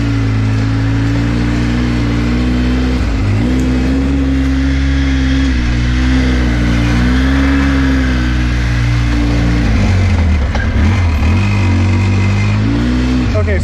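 A lifted Polaris Sportsman 800 EFI ATV drives out of the woods, its engine droning loud and close with a steady mid-pitched rumble that rises and falls as the throttle changes.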